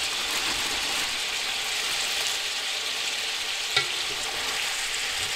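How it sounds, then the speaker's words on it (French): Browned meatballs frying with garlic and onions in a pan, a steady close sizzle throughout with one small knock of a utensil as they are stirred. "ensuite on va mélanger un petit peu comme ceci et on va laisser rissoler durant 3-4 minutes plus ou moins."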